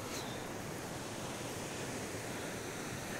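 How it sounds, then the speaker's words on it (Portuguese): Creek still flowing after heavy rains in Natuba, Paraíba, a steady broadband rush of running water heard outdoors, constant and moderately loud with faint wind, no voices. "e o riacho ainda está escorrendo"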